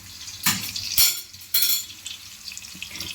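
Spring onion whites sautéing in a pan for chicken Manchurian, with three sharp bursts of sizzle and utensil scraping about half a second apart over a low frying hiss, close up and loud.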